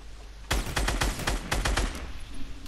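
A rapid burst of about a dozen SCAR rifle shots in Fortnite, loud and close, fired in quick uneven succession for about a second and a half before fading into low ambient game noise.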